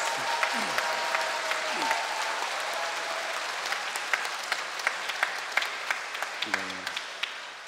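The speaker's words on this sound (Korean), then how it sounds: "수고하셨다라는 격려의 박수를 드리는 게 좋을 것 같습니다." A Catholic congregation at an Easter Vigil Mass applauds to encourage the new assistant priest, a steady wash of clapping lasting throughout with a few brief voice sounds near the start.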